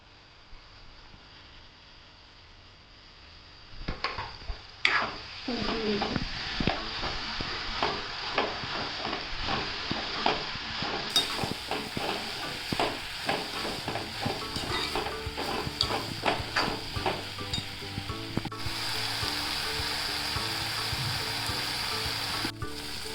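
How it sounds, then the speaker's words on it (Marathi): Dried fish (sukat) frying with softened tomato in a pan, a constant close sizzle that starts after a quiet opening, broken by repeated scraping stirs throughout. "टोमॅटोची कैरी जरा मऊ झाले आणि मी सुकट टाकून घेते"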